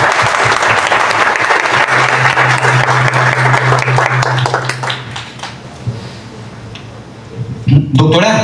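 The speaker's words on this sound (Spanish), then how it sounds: "Un aplauso fuerte, por favor." Loud, dense applause from a crowd at the Encuentros por Colombia event, strong and sustained for several seconds before thinning into scattered claps and quieter murmur.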